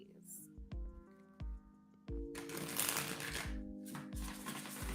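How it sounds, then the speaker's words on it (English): A tarot deck is shuffled by hand, several short papery riffles and a longer run of rustling card noise, close by over soft background music with light tapping. "I'm just going to keep shuffling until it tries to stop me, because usually that means I'm done shuffling"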